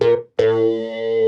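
Distorted synth tones from Pigments played on a Seaboard Rise MPE controller: a short bright note cuts off, then a sustained buzzy tone swells and holds, rich and harmonic, with no talking.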